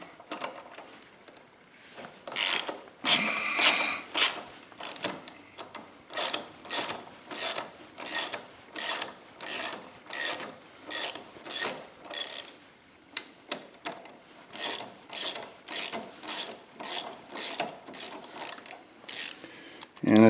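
A ratchet wrench loosens the wheel bolts on a Honda Goldwing F6B motorcycle, with rapid clicking bursts repeating in a steady rhythm, close and fairly loud with no talk.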